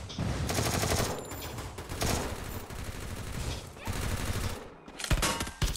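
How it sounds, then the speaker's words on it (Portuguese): Rapid bursts of enemy gunfire crackle through a shooter video game match, loud and sustained in several volleys with brief pauses between them. "Cara da safe atirando a gente."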